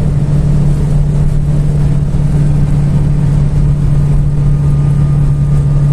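A Volkswagen Gol car engine pulling uphill in fourth gear, a steady droning hum with constant road and wind noise heard from inside the cabin, loud and unbroken throughout.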